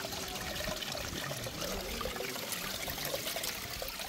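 A small waterfall trickles steadily into a guppy aquarium, producing a continuous, close, fairly quiet watery splash and gurgle with no voices.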